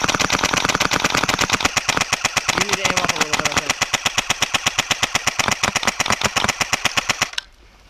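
Sustained automatic machine gun fire in a military shooter game rattles in a rapid, steady stream of loud shots for several seconds, then cuts off abruptly.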